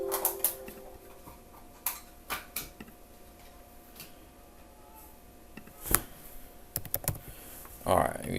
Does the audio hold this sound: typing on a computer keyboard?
yes